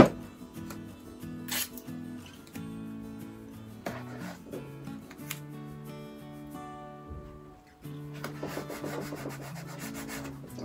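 A brush rubs acrylic paint onto a painting of geometric mountains in a series of soft, dry scratchy strokes, steady and close, with faint music underneath.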